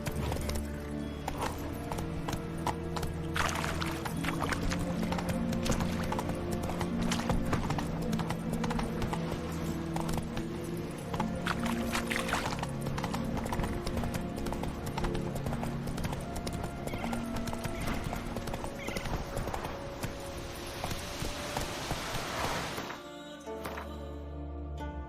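Horse galloping in The Witcher 3 video game, steady rhythmic hoofbeats running continuously under a full musical score, loud and close, with a brief drop near the end.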